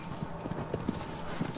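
Horse hooves clip-clop in a quick galloping rhythm in the video game Shadow of the Colossus, steady and moderately close over a low ambient hum.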